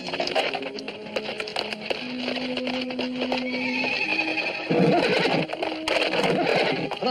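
A horse whinnies repeatedly in loud, shrill calls, accompanied by scraping and knocking of hooves and wood nearby.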